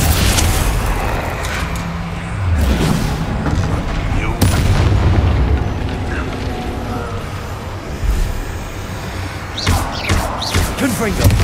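Bombarda blasting spells cast in the video game Hogwarts Legacy: a run of heavy booming impacts and thuds over a dense, continuous wash of game noise, loud and close.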